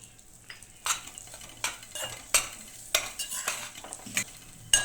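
Semolina roasting on a low flame is stirred in a pan, with a spoon scraping and clinking against the metal in repeated strokes over a soft background sizzle. No one speaks.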